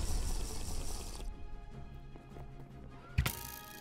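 Game water in a Minecraft Bedwars match, a rushing, splashing wash that fades after a second, followed by quieter clicks and a sharp burst near the end.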